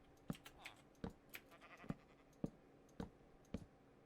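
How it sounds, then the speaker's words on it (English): Sheep in the video game Minecraft bleat in short bursts, about six evenly spaced calls over a few seconds, fairly quiet with no talk over them. "We have a sheep."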